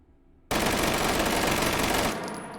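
A Beretta carbine fitted with a muzzle brake fires one loud, sustained, rapid burst in the H3VR game, the dense rattle running nearly two seconds before a fading tail.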